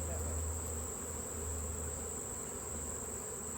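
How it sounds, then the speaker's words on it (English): Honey bees hum during a honey harvest as a steady, even drone with a sustained high whine, continuous and fairly close, with no talk over it. "I don't want the bees to follow you"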